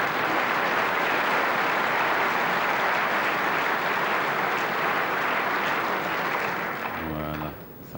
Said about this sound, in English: a thoroughly deserved round of applause